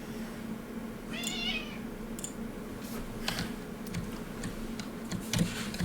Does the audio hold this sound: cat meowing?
yes